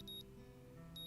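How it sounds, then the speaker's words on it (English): An alarm clock rings in the visual novel Katawa Shoujo as two quick bursts of high electronic beeping at the start and end, with a low steady hum underneath, all fairly faint. "The sound of an alarm pulls me out of a fitful slumber and into the unpleasant state of wakefulness"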